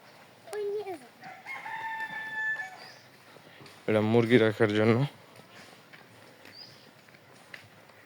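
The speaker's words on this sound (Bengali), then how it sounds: "কত সুন্দর মুরগির ডাক" A rooster on a farm lets out a single loud crow about midway through, preceded by another voice-like call or talking and followed by faint distant bird calls in an open outdoor setting.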